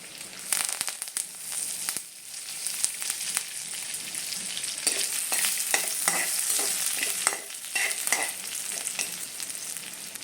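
Mustard seeds, urad dal, dried red chilies and curry leaves frying in hot oil make a close, steady sizzle with sharp popping crackles and bursts of stirring, with no voices.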